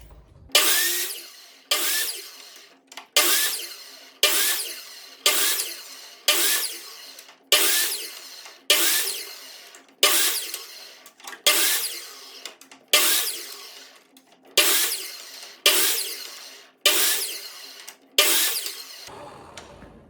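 A power saw cuts wood into 3.5 inch pieces against a stop block: about fourteen short, loud cuts in a regular rhythm, each a bright ripping burst fading quickly, with near silence between.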